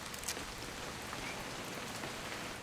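Steady rain falling in the video game What Remains of Edith Finch, a soft, even hiss of drops on surfaces at low level, with one or two slightly sharper patters and no voices.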